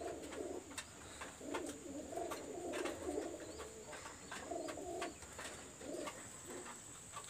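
Pigeons kept for sale as quality young birds coo steadily in soft, repeated throaty phrases, several birds overlapping against a constant hum and faint chirps, with no one talking.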